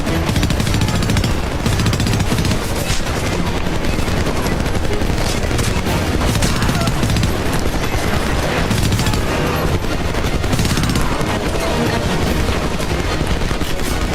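Sustained machine gun fire in the Homefront video game: loud, continuous rapid bursts with booming impacts, unbroken for the whole stretch and with no talking.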